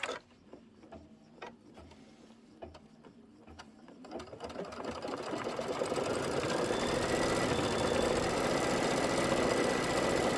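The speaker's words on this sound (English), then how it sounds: "Here's my quilting, and I'm going to hit start." A quilting machine stitches fabric for double pinwheel blocks. Faint ticking comes first, then it swells into a steady, loud mechanical hum that runs on without pause.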